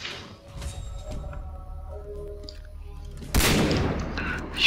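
Bursts of gunfire from a weapon in the video game Far Cry 3, several rapid shots cutting in loudly near the end over a low game backdrop.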